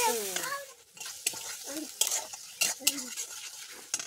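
Chopped tomato and onion hit hot oil in a home kitchen pan: a soft sizzle under intermittent scraping and clinking of a spoon stirring against the pan, with a brief voice near the start.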